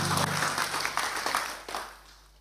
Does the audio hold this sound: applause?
yes